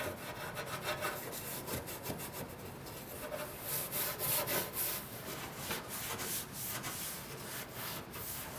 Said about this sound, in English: you just got to wipe it down, just scuff it